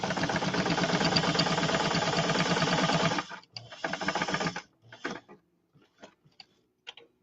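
A sewing machine top-stitches a denim coaster, running in a loud, fast continuous whir for about three seconds, then stopping and starting in shorter bursts before slow, sparse clicks at the end.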